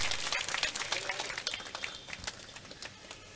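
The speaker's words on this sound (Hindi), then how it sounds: "जोरदार ताली हो इनके लिए।" Applause from an audience at a National Safety Day award ceremony, a steady dense patter of many hands clapping that fades slightly toward the end, with no talk over it.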